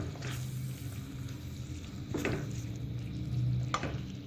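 Vegetables and capsicum for macaroni are stirred in a pan, a quiet, soft sizzle with a few brief scraping strokes of a spoon and a faint low background hum.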